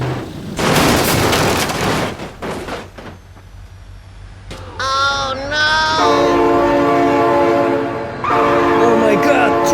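Train horn blaring in the BeamNG driving game as a train passes close and loud, with rumbling rail noise and a sustained multi-tone horn over panicked voices.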